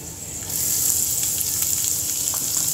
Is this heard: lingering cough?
no